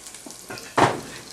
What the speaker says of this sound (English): You can tell the oil's hot enough because your cumin seeds just start to sizzle like that.